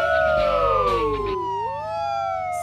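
A police siren wails close and loud, its tones sliding down and then back up in a long sweeping glide.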